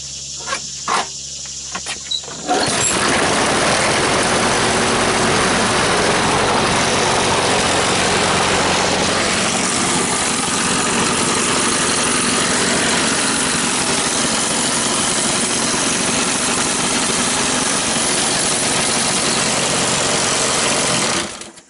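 A Sears flea-market lawn mower engine, running rich, starts after a few quiet clicks and then holds a loud, steady, buzzing idle close by until it cuts off at the end.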